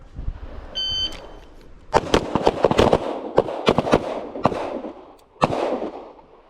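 Pistol shots fired at a target at an outdoor shooting range, heard as a series of sharp, loud, irregularly spaced cracks at close range, with a few faint beeps at the start.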